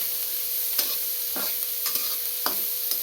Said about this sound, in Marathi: छान असं पॅक परतून घेऊया त्याला लाल होईपर्यंत